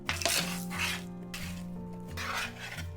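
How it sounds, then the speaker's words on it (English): Roasted potatoes with balsamic glaze stirred in a pan, giving soft rasping, scraping strokes in three or four sweeps, quiet and close, with a steady sustained tone underneath. "I like to just work it through the potatoes by giving them a stir"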